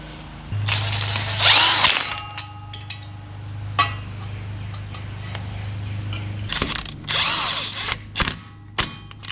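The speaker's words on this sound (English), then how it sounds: "We're going to bolt these onto the wheel hubs" A power tool drives bolts, fastening alignment plates onto a Jeep's wheel hubs in a garage: short, close whirring bursts separated by pauses, with a low steady hum running underneath.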